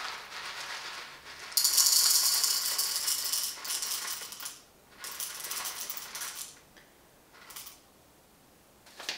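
Coffee beans are poured and weighed out for a Baratza Encore ESP grinder. Bright, close rattling of beans tumbling into a container comes in a long burst, then several shorter trickles, with no talking.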